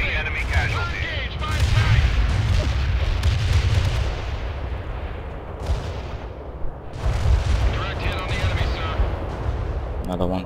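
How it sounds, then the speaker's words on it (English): Napalm strike explosions in the video game World in Conflict burst as heavy crackling booms in two or three waves, each rumbling briefly before fading, loud and up close with no talking. "Napalm delivery order. Stay clear of target area."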